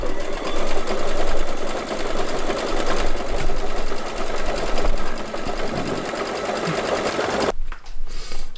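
A sewing machine runs steadily at speed while blanket stitching a quilt appliqué, a loud continuous mechanical whir that cuts off abruptly near the end and leaves a short, quieter gap.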